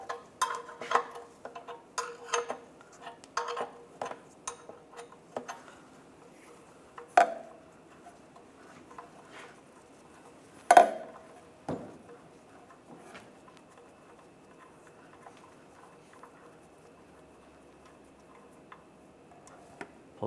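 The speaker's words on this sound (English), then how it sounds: "I'm going to use a 17 millimeter wrench" 17 mm wrench loosening the oil pan drain plug on a 1998-2010 Volkswagen Beetle: sparse metallic ticks and clinks, a few sharper knocks, scattered over long quiet stretches.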